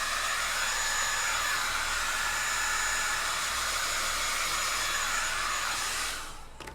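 Hair dryer drying a layer of latex rubber on a bald cap, a steady loud whooshing blow held continuously and close, cutting off at the very end.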